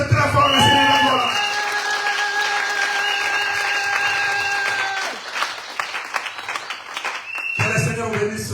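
A church congregation breaks into loud, sustained applause and clapping with some cheering, mixed with a held sung or organ tone and voices that drop away, the crowd swelling again near the end.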